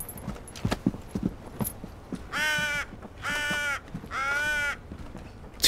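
Three loud, harsh crow caws ring out at a steady pace in Assassin's Creed Valhalla, each one drawn out and close, set against quieter clopping footsteps and ambient game sound.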